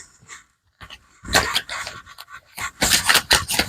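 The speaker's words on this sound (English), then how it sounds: "Oh, my dog just came in." Dog panting indoors, rapid close breathy pants in bursts with brief pauses, fairly loud and alone without talk.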